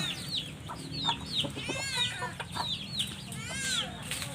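Chickens and a rooster cluck and chirp repeatedly at close range in a backyard flock, with a faint background murmur beneath the rapid, uneven calls.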